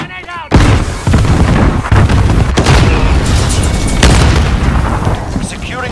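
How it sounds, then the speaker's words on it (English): Loud booming blast from a grenade in a multiplayer shooter match, followed by sustained gunfire-like crackle and rumbling chaos over several seconds. "Grenade out"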